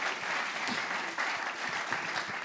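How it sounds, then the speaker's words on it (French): Audience at a conference on parasport clapping, a brief, even patter of many hands at moderate volume lasting a couple of seconds. "On peut l'applaudir"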